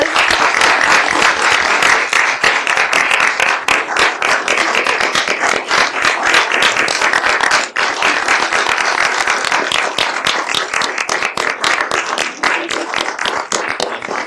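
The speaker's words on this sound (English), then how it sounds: "So why don't we give Councilmember Campion a round of applause?" Loud, dense applause from the audience at a city council meeting, sustained clapping throughout with no pause, close and energetic.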